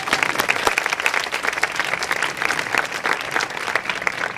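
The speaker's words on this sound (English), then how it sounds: "That deserves applause." An audience at a women's studies dedication ceremony breaks into applause, a dense crackle of many hands at moderate loudness, sustained evenly for several seconds with faint voices underneath.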